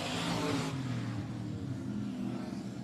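A race car engine roars at full throttle at Barona Speedway in Lakeside, California, a loud sustained growl that swells briefly then holds steady as the car passes.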